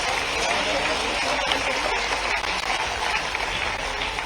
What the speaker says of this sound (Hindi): एक बार दोनों हाथ उठाकर माननीय मुख्यमंत्री जी का अभिनंदन करें, दोनों हाथ उठाकर ताली बजाकर